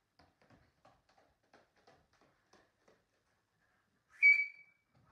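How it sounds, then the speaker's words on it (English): A PE teacher's whistle blown once during a kindergarten movement lesson, a single loud shrill blast near the end following a stretch of faint taps and footsteps. "Because I just blew my whistle once."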